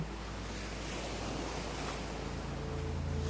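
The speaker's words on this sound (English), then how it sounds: "the waves continuing their steady rhythm below" Ocean surf rolls in a steady, continuous wash at night, a broad soft roar of breaking waves with a faint low hum and no voices.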